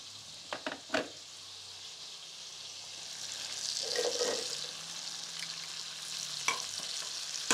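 Chicken browns in a pan with a faint, steady sizzle, broken by a few utensil knocks at the start and end and a brief louder hiss in the middle.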